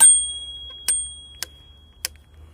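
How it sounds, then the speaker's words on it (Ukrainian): The handlebar bell on a Xiaomi electric scooter rings with several bright, sharp dings spaced about half a second apart, close and clear over a low background hum. "Ось такий от дзвіночок. Просто якщо сильно зажати, і він як дзвенить, добре."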